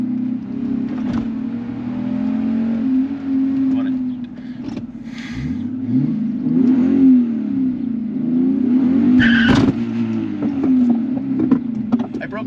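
Subaru flat-six engine in a drift-built car, a steady loud engine drone with rising and falling rev sweeps, heard under ongoing conversation between several people.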